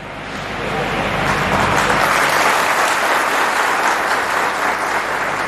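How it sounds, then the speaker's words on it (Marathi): Audience applause at a bullock-pair decoration competition in Kalwan, a dense roar of clapping that swells in over the first second and holds loud and steady. "टाळ्या तरी जोरदार पडू दे"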